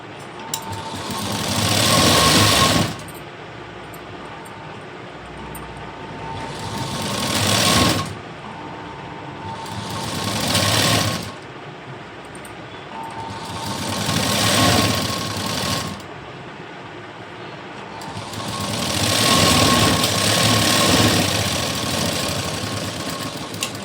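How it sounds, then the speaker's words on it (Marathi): A sewing machine double-stitching a blouse sleeve seam, running in five loud bursts of rapid mechanical chatter separated by brief pauses, close and alone without speech. "आता डबल शिलाई आपण देऊन घेऊया"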